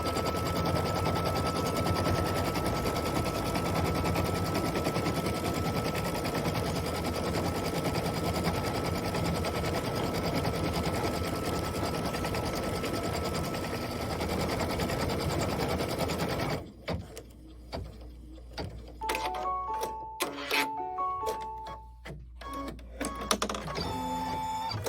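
An embroidery machine stitches tack-down lines on background fabric for a Kimberbell Cup of Cheer project, a steady rapid mechanical whir for about seventeen seconds, then stops, followed by a few scattered electronic beeps and clicks.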